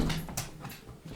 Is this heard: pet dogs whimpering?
yes